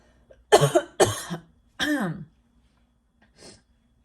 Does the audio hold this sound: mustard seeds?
no